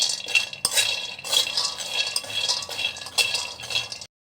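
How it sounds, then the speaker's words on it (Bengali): Peanuts dry-roasting in a pan, stirred with a utensil that scrapes and clinks against the metal in uneven bursts, close and fairly loud, ending abruptly. "না খোলায় আমরা বাদামটা আগে ভেজে নিব"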